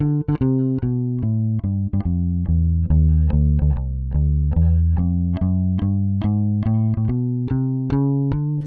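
A plucked bass guitar walks steadily through swung notes, with chromatic passing tones slipping between the main ones; a continuous line played close, no voices.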